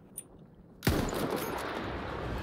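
Gunfire in Battlefield 1 cuts in sharply after a near-silent moment, a loud burst followed by a dense, sustained roar of shots and rumble.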